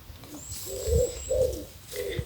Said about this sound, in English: When you're standing there listening to all the birds